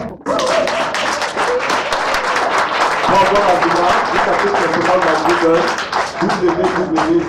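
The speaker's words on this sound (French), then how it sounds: "On applaudit d'abord." Audience bursts into applause at a French-language book presentation, a steady wash of many hands clapping throughout, fairly close, with voices and some cheering mixed in under the clapping.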